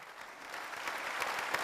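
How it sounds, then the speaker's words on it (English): Warm applause from an audience at a civil authorities' meeting in Azerbaijan as Pope Francis takes the podium, a steady, fairly distant clapping that builds slightly with no talk over it. "And to warm applause, our Holy Father, Pope Francis, is about to take the podium."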